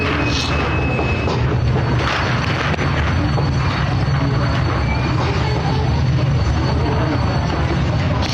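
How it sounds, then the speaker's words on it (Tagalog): Loud, steady wind roars and buffets without a break, a dense low rumble filling the whole stretch. "Maingay na hangin."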